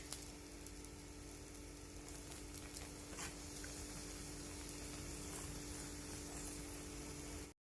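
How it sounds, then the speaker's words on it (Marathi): Aloo paratha roasts in oil on a pan, giving a steady, even sizzle with fine crackling that holds at a constant level for several seconds before cutting off abruptly. "आता यावरती तेल किंवा मग बटर सोडून छान खरपूस भाजून घ्यायचं आहे."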